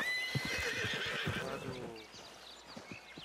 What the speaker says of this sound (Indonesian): Disepak terus ketawa kudanya.